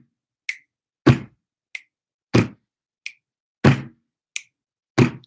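Four crisp finger snaps ring out at a slow, even pace, alternating with louder, deeper slap-like hits and separated by clean silence.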